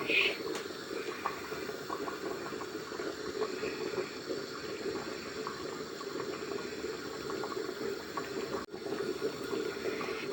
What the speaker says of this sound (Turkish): Birkaç dakikada kaynadı.